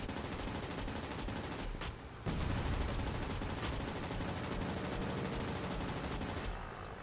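Rapid tail gun bursts in World of Warplanes, an early biplane-era aircraft such as a P-12 or He 51 firing steadily amid loud engine drone, with one brief pause before the firing resumes and runs nearly continuously.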